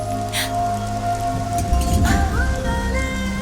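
Rain keeps falling in a constant soft hiss. A brief rumbling swell comes midway, with a musical tone held over the rain.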